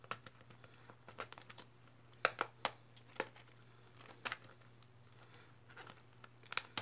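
Small packages of ordered craft supplies being torn open, with quiet, intermittent crinkling and sharp tearing bursts close by and no talking.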